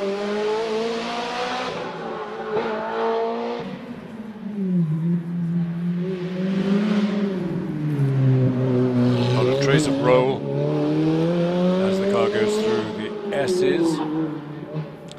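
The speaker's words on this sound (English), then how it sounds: "430 coupe. Proper gearbox and clutch, not paddle shift." Ferrari 430 coupe with a manual gearbox and clutch on a hill climb at Prescott, the engine rising and falling through the gears, heard under a commentator's steady talk.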